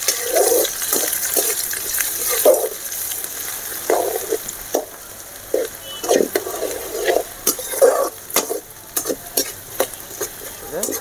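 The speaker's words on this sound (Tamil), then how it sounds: "வெங்காயத்தை போட்டுக்கலாம். வெங்காயம் நல்லா வதங்கணும்." Chopped onions frying in a pan for chicken tamarind curry, a bubbling sizzle broken by frequent stirring scrapes and clinks of a ladle, close and loud, with no speech.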